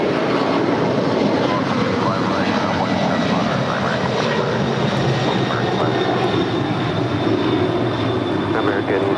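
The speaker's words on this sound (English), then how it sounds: "This is Moss Air Cargo Flight 6867 departing to Guadalajara. It's a 15-year-old 767-300 freighter." A 15-year-old Boeing 767-300 freighter departs LAX bound for Guadalajara, its engines giving a loud, steady broadband roar that fills the whole stretch without letup.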